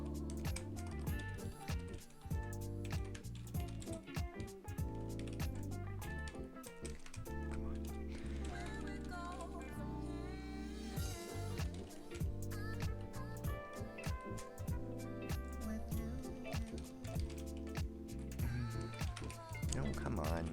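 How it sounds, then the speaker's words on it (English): Rapid, uneven clicking of keys on a computer keyboard during a coding session, heard faintly under louder background music. "I'm not good at typing today."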